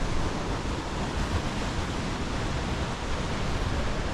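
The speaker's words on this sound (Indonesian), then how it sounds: "bisa kita dengarkan suara anginnya" Strong storm wind roars steadily and loudly around a mountain camp on the Tapak Geurot route, a dense unbroken rush of noise that buries everything else.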